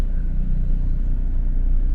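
A vehicle engine rumbles steadily at low pitch, loud and continuous with road noise mixed in, while riding inside the car on a narrow route in the Philippines.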